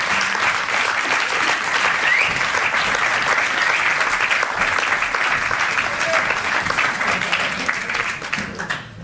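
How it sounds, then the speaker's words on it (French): A film premiere audience applauds loudly and steadily for about nine seconds, with a dense wash of clapping that stays even throughout and thins slightly at the end. "On peut applaudir bien fort."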